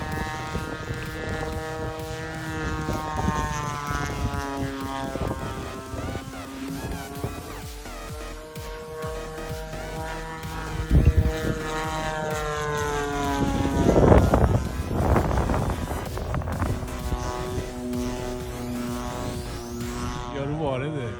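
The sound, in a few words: radio-controlled biplane model aircraft flying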